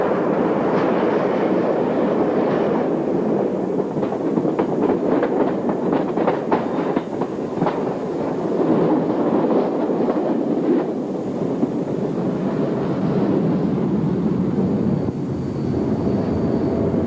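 A train rumbles steadily along the rails near Falsgrave Tunnel into Scarborough, with a run of rhythmic clicking and clacking from the wheels, loud and continuous throughout.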